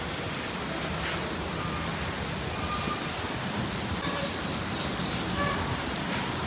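Heavy rain driven by wind from Cyclone Fengal in Chennai makes a dense, unbroken hiss, steady and loud across the whole stretch with no talking.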